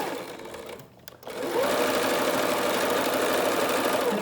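A sewing machine stitches a 100% cotton muslin face mask. It runs, stops for a moment, then starts again and holds a steady, close, humming whir.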